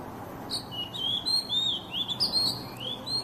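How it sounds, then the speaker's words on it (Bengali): An oriental magpie-robin (doel) calls outdoors with a run of clear, high whistled notes, varied and repeated in quick succession over soft background ambience. "এই পাখিটির নাম হচ্ছে দোয়েল।"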